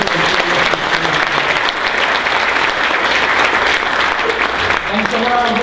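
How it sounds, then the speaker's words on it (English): A presentation audience applauds steadily for several seconds, a dense, close wash of clapping with no gaps. "Let's give a round of applause for the"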